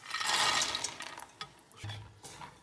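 Caramel with hazelnuts stirred in a pan while making homemade Nutella, a wet sticky scraping and sloshing that starts loud and then thins into intermittent softer stirring strokes.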